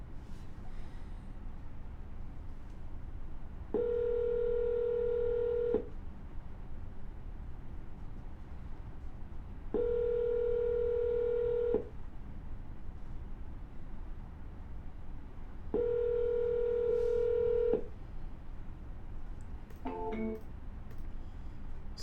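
Phone ringback tones during an outgoing call, three long steady rings evenly spaced a few seconds apart over a faint low hum, with no voices.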